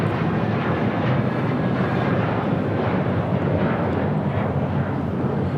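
A JetBlue Airways A321 airliner takes off from LAX, bound for Fort Lauderdale, with a continuous loud broadband jet-engine roar and rumble that stays constant throughout, and no talk over it.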